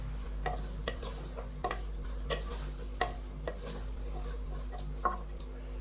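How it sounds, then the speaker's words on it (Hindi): Pumpkin frying in a pan for a village-style chana dal with pumpkin, with a steady low sizzle and a few sharp spoon scrapes and clinks as it is stirred. "तो यहाँ पे हम कद्दू को 2 से 3 मिनट भून लेंगे।"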